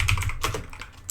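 Quick bursts of keystrokes on a computer keyboard, several close clicks in an uneven rhythm, loud and up close with no voices.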